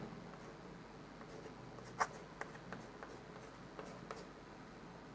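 Marker or chalk strokes on a classroom board during a biology lesson on tissues, a series of soft, scattered taps and scratches at moderate distance, with no talk.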